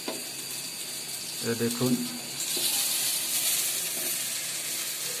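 Eggplant frying in hot oil in a home kitchen, a steady bright sizzle running throughout and swelling in the second half, with a brief spoken word near the start.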